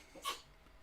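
A single short, soft sneeze bursts out against quiet background noise.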